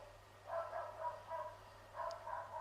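An agitated dog barks in the distance, a quick run of sharp yaps in two bursts, faint and somewhat muffled against a quiet indoor background.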